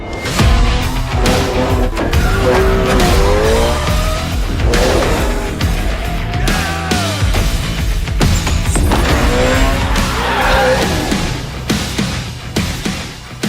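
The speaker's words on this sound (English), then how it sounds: "Master the drive in the all-new Toyota GR86." A Toyota GR86 sports car is driven hard, its engine revving up and down through gear changes with squealing tires, loud and close, under driving music with no one talking.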